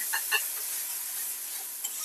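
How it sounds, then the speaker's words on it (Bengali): Spices with chopped tomato, turmeric and salt frying in a pan while being stirred, a close, continuous hissing sizzle with a couple of brief scraping clicks from the utensil. "ভালোভাবে মশলাটা কষিয়ে নেব।"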